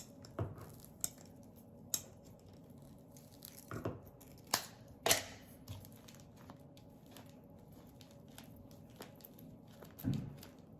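Scissors snip a spring topiary decoration, a dozen sharp, separate cuts spaced irregularly through a quiet room, close and fairly crisp with soft rustling between them.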